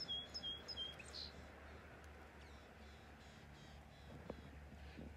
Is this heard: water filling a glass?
no